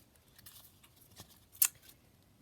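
Scissors snip through a double sheet of patterned craft paper, a few faint, close cuts ending in one sharper final snip, in a quiet room without talking.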